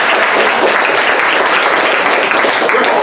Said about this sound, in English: Yeah, we can applaud for that.